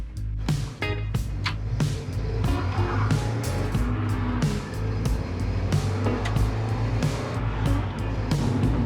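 NA Mazda Miata with a fresh clutch running steadily and shifting, engine droning at close range with repeated changes in pitch and a few sharp transient clicks as it changes gear.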